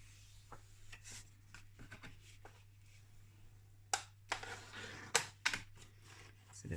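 Paper for a handmade mermaid-themed mini album being creased and folded along scored lines, giving soft scattered crinkles and sharp creasing snaps that grow louder toward the end over a low steady hum.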